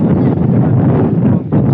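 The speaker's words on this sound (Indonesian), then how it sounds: "angin sepoi-sepoi menambah nikmatnya" Steady sea breeze rushing across a microphone on a wide, open beach in Aceh Besar, a continuous low buffeting roar that dips briefly near the end, with no voices.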